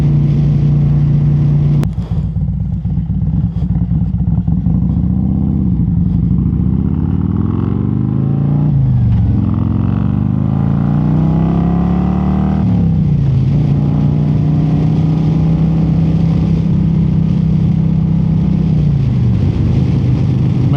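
A cammed and tuned 2025 Harley-Davidson Road Glide motorcycle accelerating, its loud close exhaust climbing through several gear pulls with brief dips between shifts, steady and dominant with no talk.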